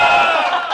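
A crowd of fight fans at a boxing press conference in Moscow shouts and cheers together in a brief, loud burst of voices.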